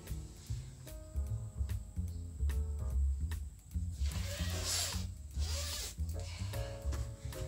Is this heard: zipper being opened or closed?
yes